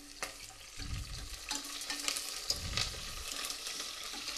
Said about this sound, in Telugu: బిర్యానీ ఆకు పచ్చిమిర్చి కరివేపాకు వేసుకొని వేపుకోవాలి